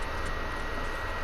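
Airplane engine in a battle royale video game, a steady droning roar held at an even level throughout with no talk over it.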